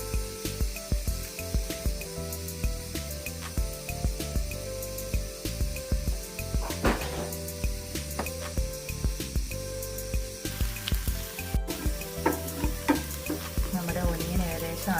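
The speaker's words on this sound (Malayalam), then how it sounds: "നമ്മുടെ മസ്റ്റാർഡ് ആഡ് ചെയ്ത് കൊടുക്കാം." Mustard seeds frying in hot oil in a pan, a close, continuous sizzle packed with rapid crackling pops and spits throughout, no voices over it.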